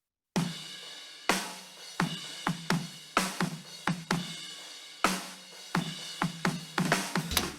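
Soloed kick drum and snare picked up by a single kick-snare mic, a series of sharp thumping and knocking hits in a driving rock pattern, each hit decaying quickly into a short ring.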